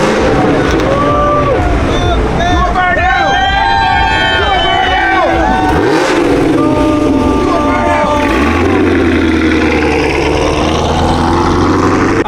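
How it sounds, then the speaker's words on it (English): Cars leave a car meet, with engines revving and rumbling close by amid crowd chatter. A deep, steady engine drone takes over near the end. "make sure you stick around till the end so you can see all the cars leaving"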